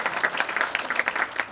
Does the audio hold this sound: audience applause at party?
yes